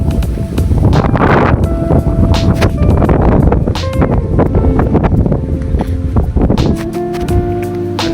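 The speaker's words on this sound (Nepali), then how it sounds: "हावा भनेको त्यस्तै हो, चल्दै गर्छ, उडाउँदै गर्छ" Strong wind gusting hard against the microphone outdoors in Nepal, loud and turbulent with repeated buffeting bursts throughout, and faint tonal sounds beneath.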